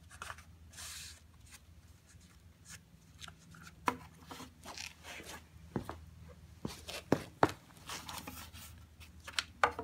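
Scissors cut through extra material for homemade knee pads, producing repeated close crunchy snips and rustling scrapes that grow denser toward the end, with no talking.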